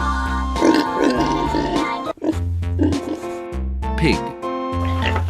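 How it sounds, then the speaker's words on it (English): Pig oinking from a farm animal sound set, a few grunting calls over steady musical backing, with short pauses between them. "Pig."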